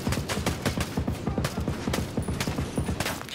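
Rapid automatic gunfire rattles through a Ghost Recon Breakpoint firefight, a loud, continuous stream of closely spaced shots in steady rhythm with no pause across the burst.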